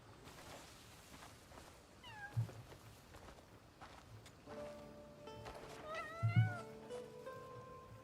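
A cat meows a few times in the Crimson Desert video game, short rising-falling cries spaced over several seconds, fairly faint under soft game ambience with tonal background sounds.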